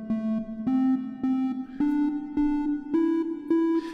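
Empress Effects Zoia sequencer fed through a scale snapper module, producing evenly pulsed synth notes that climb in distinct stepped pitches, crisp and alone.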